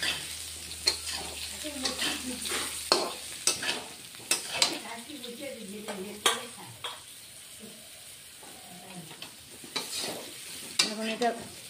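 Cauliflower fries in a pan with turmeric for a rui fish curry, a faint sizzle under repeated scraping stirs and occasional clinks of the spoon against the pan, with no talking.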